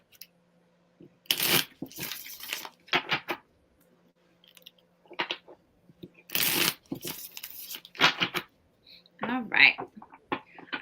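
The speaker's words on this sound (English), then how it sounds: "2 more shuffles in." Tarot cards being shuffled in several quick riffling bursts, close by, with short pauses between and a brief higher-pitched sound near the end.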